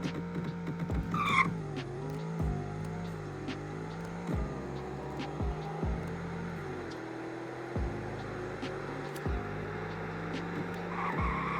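A supercar accelerating flat out in a 0 to 200 mph run on an open road, probably a Bugatti Veyron or Koenigsegg Regera, with a loud sustained engine roar climbing through gear changes, each shift marked by a brief dip, and no talking.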